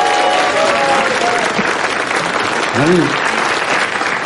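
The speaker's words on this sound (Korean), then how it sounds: "막 박수 치지 마시고요." Studio audience applause during a Korean news talk show anniversary broadcast, a dense steady roar of clapping lasting throughout, with a brief spoken word from a host breaking through over it.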